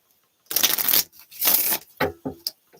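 Tarot cards being shuffled by hand, close up, in two long riffling bursts followed by a few quick shorter taps and flicks as the deck is squared.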